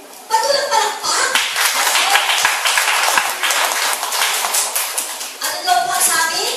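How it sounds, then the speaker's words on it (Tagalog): An audience claps in a dense, sustained round of applause lasting several seconds, loud and near, with a few voices mixed in and a brief lull before the clapping picks up again. "Patulang palakpak"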